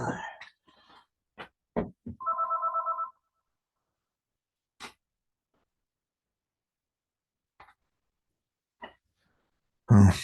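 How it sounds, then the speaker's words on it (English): A telephone rings once with a short electronic trill, set amid sparse clicks, breaths and small vocal noises in a quiet classroom lecture, with a louder thump at the end. "I just have the phone here and sometimes it rings."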